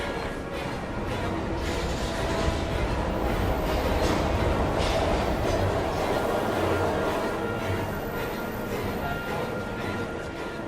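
A train in the video game Heavy Rain rumbles steadily and loudly throughout, a dense continuous roar of rolling carriages with no pauses.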